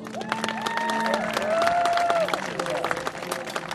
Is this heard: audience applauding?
yes